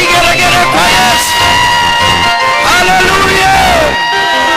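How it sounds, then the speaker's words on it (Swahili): Church congregation at a church launch in Nyamira praising Jesus, loud clapping mixed with cheering, whoops and wavering high ululation, a dense, sustained roar close by. "kwa dakika moja yapige makofi yako, shangwe na vigelegele kwa Yesu"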